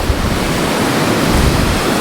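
Rushing water at the Fairy Pools on the Isle of Skye, a dense, continuous broadband roar of flowing streams and falls mixed with wind buffeting the microphone, steady and close, with no voices.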